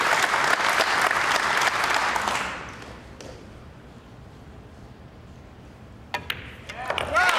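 Applause from a crowd at a 9-ball pool match, the US Open quarterfinal in Norman, Oklahoma, rises in a dense clatter, then fades away, leaving a quiet room and a few faint knocks.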